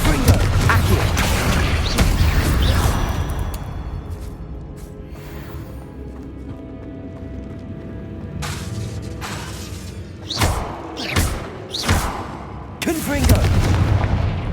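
Confringo and Expelliarmus spell blasts go off in the Hogwarts Legacy video game, loud booming and shattering cracks first, then a quieter stretch before a cluster of four or five sharp bursts in quick succession.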